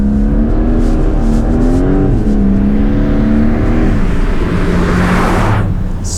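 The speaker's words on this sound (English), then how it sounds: "Great rumble, just the way you want it from that flat boxer" A Porsche 911 Targa 4 GTS with a flat-six boxer engine rumbles loudly and steadily while driving through snowy Swedish winter roads, the engine note rising and falling close up.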